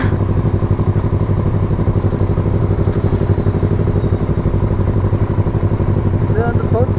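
A Yamaha MT-03 motorcycle engine runs steadily and loudly up close, a rapid throbbing putter with some clatter, with faint voices in the background.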